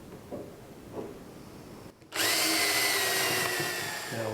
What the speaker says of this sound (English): we're going to pre-drill first